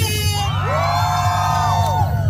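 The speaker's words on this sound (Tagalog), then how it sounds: "Isa pa, sigaw-sigaw, madlang people!" Spectators at the Mr. and Miss Beach Royalty 2025 beach pageant scream and cheer, a steady, loud crowd roar topped by long, sliding high-pitched yells.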